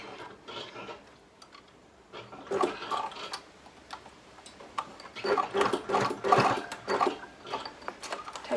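A sewing machine stitches back and forth across a belt, a fine rapid mechanical whir that comes in bursts with short pauses, moderately close and with no talk over it.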